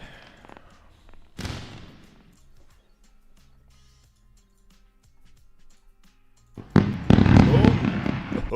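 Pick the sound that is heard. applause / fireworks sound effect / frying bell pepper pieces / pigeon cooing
fireworks sound effect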